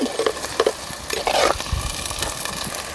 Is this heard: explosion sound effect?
no